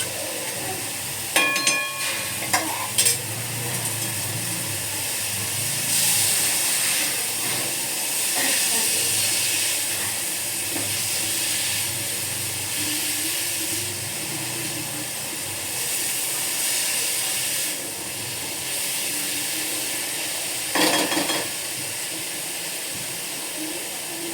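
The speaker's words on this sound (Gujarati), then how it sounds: "હવે આમાં ઝીણા સમારેલા ટમેટા ઉમેરીશું।" Finely chopped tomatoes frying and being stirred in a pan for veg paneer gotaro give a steady sizzling hiss throughout, with a few sharp clinks of the spoon near the start.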